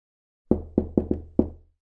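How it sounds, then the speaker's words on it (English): Five sharp knocks hit an apartment door, close and distinct in an uneven rhythm, two in a quick pair then a short pause before the last. "he knocked on the door"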